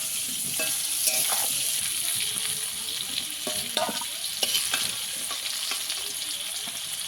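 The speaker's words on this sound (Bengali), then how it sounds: "এঁচড়টাকে একটু ভালো করে ভেজে নিতে হবে।" Pieces of young jackfruit fry in oil in a pan, giving a steady close sizzle broken by scraping stirs and small clatters.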